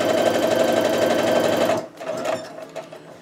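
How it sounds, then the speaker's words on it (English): A sewing machine stitches a seam down the center of a quilt block. The motor hums loud and steady for almost two seconds, then stops, leaving softer handling clicks and rustles. "now I'm gonna sew along the center of that block using the scant corduroy seam."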